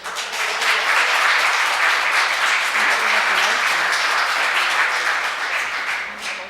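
Audience at a public budget hearing giving a continuous, dense round of applause, many hands clapping at once in a sustained wash that fades slightly at the end.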